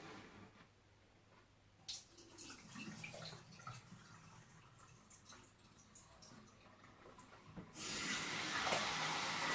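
Water runs and splashes in a sink while rice is rinsed, intermittent at first, then a strong steady gush of tap water near the end; no talking.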